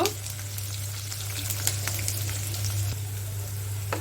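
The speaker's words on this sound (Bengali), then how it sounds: "পরিমাণ মতো তেল দিয়ে দিলাম আর এখানে কেটে রাখা পেঁয়াজ আর কাঁচামরিচ কুচি দিয়ে দিলাম ভাজার জন্য" Chopped onion and green chili fry in hot oil in a pan, giving a continuous soft sizzle with small crackles. The sound is close and fairly quiet, and a low steady hum sits underneath.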